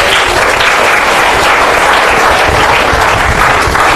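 Audience in a school quiz and spell bee competition applauding a team, a dense, loud, continuous round of clapping from many people, close and sustained throughout.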